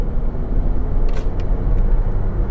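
Mercedes GLA accelerating hard under full throttle, a steady loud engine and road rumble heard from inside the cabin, with a few faint clicks over it.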